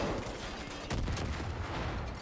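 Gunfire and an RPG in a shooter video game, a dense run of rapid shots with a heavier blast around the middle, fairly quiet and continuous, with no talking.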